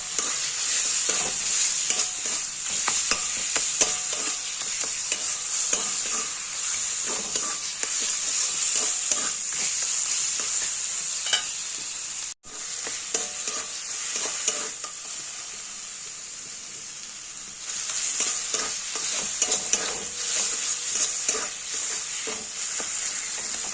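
Bathua greens frying in a pan, a continuous close sizzle broken by frequent scraping stirs, with a short dip midway before the hiss returns at full strength.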